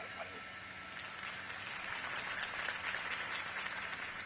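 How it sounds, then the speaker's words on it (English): A crowd applauds in a steady wash of clapping that swells slightly toward the end, heard from a short distance with murmuring voices underneath, after a political campaign speech in the video game Batman: The Telltale Series. "could have heard that applause"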